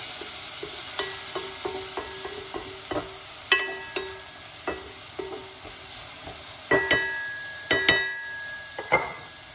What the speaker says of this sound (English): Fry up these lovely vegetables.